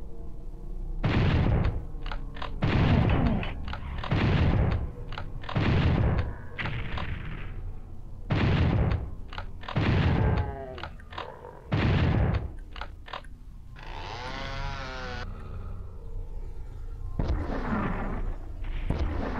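Repeated bursts of gunfire in Final Doom on PS1, loud and close, in uneven volleys with short gaps, some sustained sweeping tones near the end.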